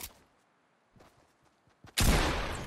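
Gunfire in the Fortnite video game: faint scattered clicks and pops, then one sudden loud burst of shots that rings on to the end.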